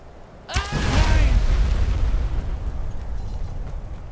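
A chicken blows up in a video game with one sudden loud blast, followed by a deep rumbling roar that lingers and slowly fades.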